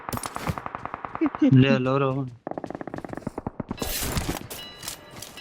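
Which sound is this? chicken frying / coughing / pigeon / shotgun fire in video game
shotgun fire in video game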